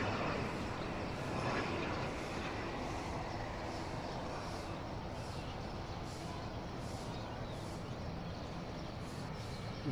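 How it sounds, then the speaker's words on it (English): A Buddha Air ATR 72 turboprop taxis on the runway toward takeoff, its engines giving a steady, continuous drone that holds at an even level throughout. "Buddha Air ATR 72 also taxiing on runway for takeoff"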